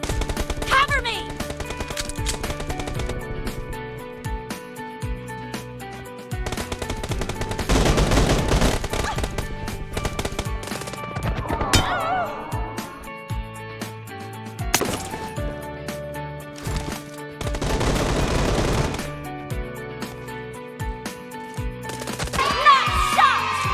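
Pistol shots in the mobile battle royale game BGMI, with bursts of gunfire in several clusters over a dense game soundscape with music and effects, sounding loud and close.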